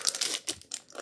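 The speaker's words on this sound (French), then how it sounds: "nouveau booster. Reshiram Flamme Blanche. On va essayer de l'ouvrir proprement, celui-ci." Foil wrapper of a Pokémon TCG Reshiram White Flame booster pack torn open by hand, a few close crinkling rips in quick bursts across one second, no talking.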